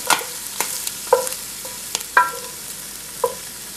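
Scallop dish ingredients being sautéed in a pan, a steady soft sizzle broken by several sharp scrapes and clinks of stirring at irregular intervals, close by with no talk.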